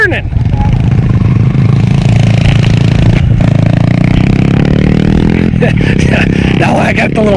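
Kawasaki KLX140L dirt bike ridden nearby, a steady loud engine drone with gear changes, under continuous talking.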